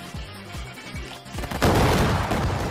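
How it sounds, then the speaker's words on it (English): Rapid crackling explosions from an attack in the anime-style video game Anime Adventures, a burst of sharp pops like fireworks that swells into a dense, loud roar of bangs toward the end. "that explosion sounds like fireworks"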